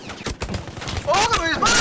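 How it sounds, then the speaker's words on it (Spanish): Gunfire in Battlefield 1 comes as bursts of rapid, loud shots over excited Spanish-speaking voices and game battle noise. "¡Ojo que me disparan!"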